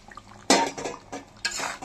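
Chicken maharani is stirred in a pot after a splash of hot water goes in, heard as two sharp scraping, clattering strokes of a utensil against the pot with wet sloshing between them, close and without talking.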